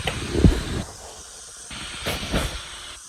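A Primal Kitchen steak fajita skillet meal sizzles in a covered pan just after stirring, a close steamy hiss that swells into a few louder sizzling bursts, heard alone without talk.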